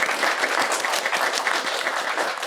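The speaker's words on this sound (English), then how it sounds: "Can you join me in giving a little round of applause for Nick and Rosie?" A convention panel audience applauds, dense and steady clapping from many hands filling the room for a couple of seconds, no voices over it.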